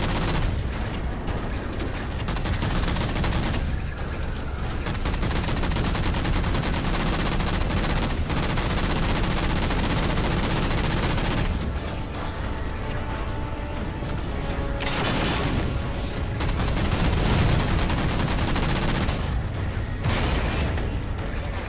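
Near-continuous gunfire from the Halo 4 video game: loud automatic bursts and rattling shots with brief pauses, dense and sustained throughout, with no talking.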